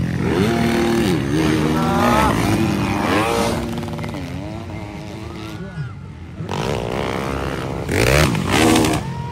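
450cc motocross bikes racing at a ladies-category event in President Roxas, North Cotabato, engines revving up and down in loud overlapping whines as riders pass, with crowd noise and commentary underneath.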